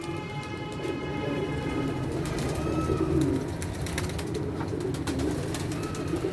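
Pigeons kept by a fancier coo repeatedly nearby, with soft throaty calls rising and falling over a low background hum.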